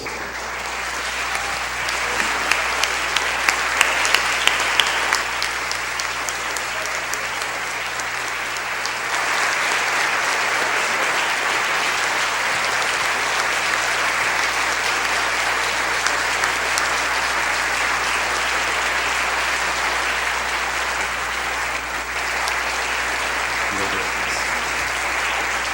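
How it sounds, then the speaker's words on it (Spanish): Sustained applause from a church congregation standing during a Sunday worship service, a long steady wash of many hands clapping that swells and holds for the whole stretch, with a brief rhythmic burst near the start. "yo quisiera pedir que nos pongamos de pie para dar un fuerte aplauso a nuestro Dios"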